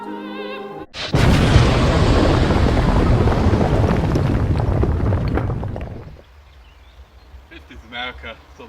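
A huge simulated atom bomb blast bursts in after a brief voice, a loud sustained roaring rumble that rolls on for about five seconds before dropping away, followed by faint scattered sounds.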